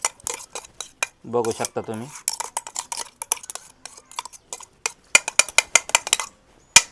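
A spoon scrapes and knocks against a mixer jar while a mixture is scooped into a bowl: a rapid string of sharp metallic clinks and taps, close and busy, with a brief voice heard in between.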